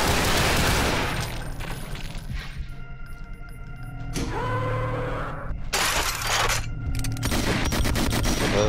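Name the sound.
shotgun firing in the video game Brutal Doom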